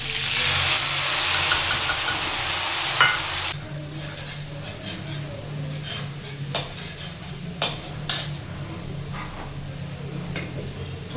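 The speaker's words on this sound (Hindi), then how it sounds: "प्याज मेरी भुन चुकी है, और अब मैं इसमें ये मसाला छोड़ देती हूँ।" Spice masala dropped onto fried onions in a pan sizzles loudly at first, then settles to a steadier fry broken by sharp scrapes and clinks of stirring, with no talk.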